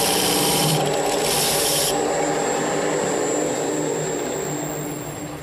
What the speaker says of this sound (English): I'm going to start with a skew chisel and make a cut there